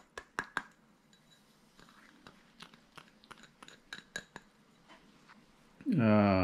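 Kitchen knife chopping garlic cloves on a board for a cucumber and carrot salad: quiet, irregular sharp taps and clicks, with a brief voice near the end.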